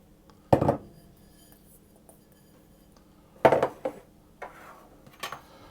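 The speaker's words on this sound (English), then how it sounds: "I'm going to mix the almond flour and the sugar together" Almond flour and sugar are stirred together in a bowl for Sicilian almond paste cookies: a few distinct scraping clinks of a utensil against the bowl, spaced seconds apart, with quiet in between.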